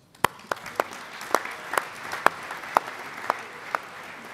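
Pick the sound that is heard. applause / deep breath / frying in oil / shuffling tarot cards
applause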